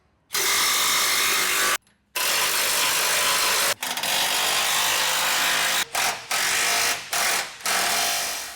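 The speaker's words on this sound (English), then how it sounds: "now it's just time to tighten all the bolts down" A power tool drives bolts for rock sliders on a third-generation Toyota Tundra frame. It makes loud sustained rattling bursts with a few brief pauses between runs.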